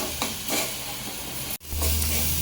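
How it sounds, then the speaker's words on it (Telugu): Ginger-garlic and onion masala sizzling steadily in hot oil for a crab leg curry, a loud continuous frying hiss with stirring scrapes and a brief break midway. "చూడండి మనం ఆయిల్లో వేసాం కదా"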